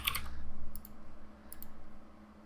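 Keys tapped on a computer keyboard in a few short clusters of light clicks, fairly faint over a steady low electrical hum.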